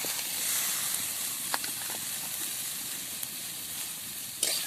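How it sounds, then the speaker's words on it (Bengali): A pan sizzles steadily as chopped tomato is added to a cauliflower bharta, with a continuous hiss and a few brief clinks and spatters, no talking. "এবারে কেটে রাখা একটা টমেটো দিয়ে দেবো"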